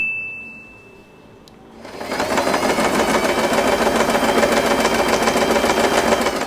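A sewing machine stitches a folded strip of fabric for a scrunchie, starting after a quiet moment and then running steadily and close for several seconds with a fast, even mechanical rattle.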